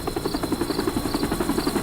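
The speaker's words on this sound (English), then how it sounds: "Lots of choppers coming and going." Helicopters flying in the video game Metal Gear Solid V: Ground Zeroes at a dark military base, a steady rhythmic rotor thump with an engine whine, continuous and fairly close, with no talk.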